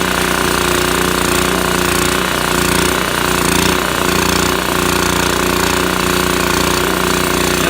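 A repaired generator engine runs with its choke fully off, giving a loud, steady, rapid mechanical chatter up close that carries unbroken throughout with no voices.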